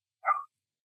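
A single short dog bark, loud and close, stands alone against silence.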